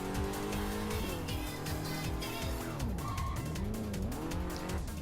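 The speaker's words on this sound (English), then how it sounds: "But I drift so much, even when I'm not pressing the handbrake." Video game car drifting in Roblox, with a revving engine whose pitch rises and falls and high tire squeals sweeping across the turns, loud and continuous with no talk.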